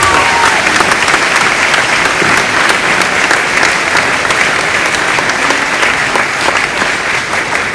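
Sustained, loud applause from a graduation audience in honor of the school's athletic staff, a dense wash of clapping hands that holds steady throughout, with no speech over it.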